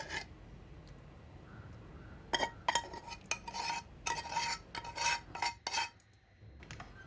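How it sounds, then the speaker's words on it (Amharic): Cooked red lentils for a baby purée scraped into a dish, with a run of clinking spoon-on-metal knocks and scrapes over a quiet kitchen background, no talk. "ስለዚህ በአንድ እቃ ላይ ምስሩን ገለብጠዋለሁ።"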